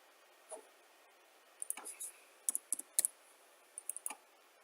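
Typing on a computer keyboard gives light, quiet scattered clicks in short irregular bursts, close by in a quiet room.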